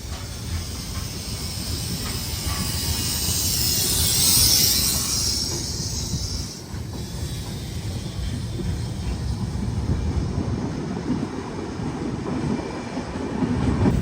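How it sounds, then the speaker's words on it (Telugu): Azad Hind Express pulling away from a station stop: a steady rumble of the moving train with a broad hiss and faint clickety-clack, continuous and fairly loud throughout with no voices. "ఆజాద్ హింద్ ఎక్స్ప్రెస్ ఒక ర్యాండమ్ స్టేషన్లో ఆగి ఇప్పుడే బయలుదేరింది మళ్ళీ మన ట్రైన్"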